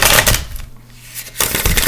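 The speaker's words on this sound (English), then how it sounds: "This is how I like to shuffle my cards." Tarot cards from a 2017 Centennial deck being shuffled by hand, with dense rapid riffling and flicking close by before and after a brief quieter pause midway, and no talking.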